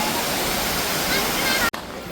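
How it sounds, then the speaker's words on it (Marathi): Kondeshwar waterfall in the rain at Badlapur, a constant broad roar of falling water close by, steady throughout before a brief dropout near the end. "पाऊस, धबधबा आणि मक्याचं कणीस,"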